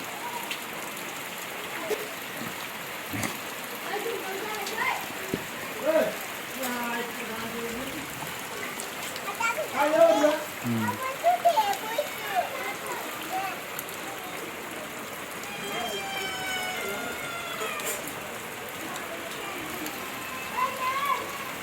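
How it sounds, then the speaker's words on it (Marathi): First rain of the season patters steadily on surfaces nearby on farmland, with scattered drips and a brief louder spatter, while faint birds chirp in the background. "पावसाचं आगमन झालेलं आहे मित्रांनो"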